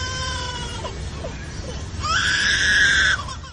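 Lyrebird mimicking an infant's cry in a forest: a thin, wavering wail with harmonic bands rises and swells loudly for about a second near the end, after fainter tonal calls over steady background noise.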